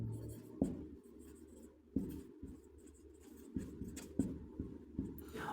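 Chalk or marker strokes on a classroom board during a lesson, short scratchy bursts with sharp taps between them, quiet and close with no talking.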